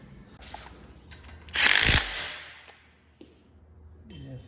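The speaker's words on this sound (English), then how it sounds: "Then I'll tighten these outer ones up and then put the bolts in." Bolts being tightened during assembly of a Scrambler motorcycle: a few quick ratchet clicks and metallic taps, one louder burst of ratcheting mid-way, close by with no talking.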